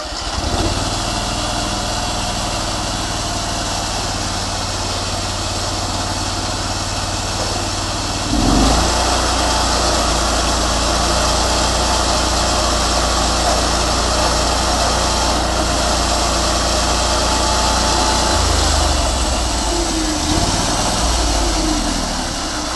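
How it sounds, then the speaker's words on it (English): A bandsaw mill engine starts and settles into a steady idle, a loud continuous motor drone with a shift in tone partway through and no talking. "I'm going to start it up at idle, and I'm going to watch the flap in it"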